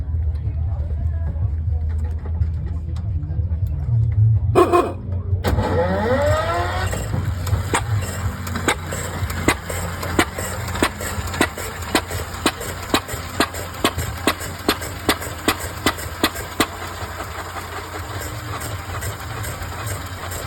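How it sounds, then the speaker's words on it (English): An old custom wrecker's hit-and-miss engine cranks with an electric starter pedal, catches, and settles into a steady idle with regular, evenly spaced firing pops, with a horn toot at the start. "I'll toot the horn and hit the starter pedal."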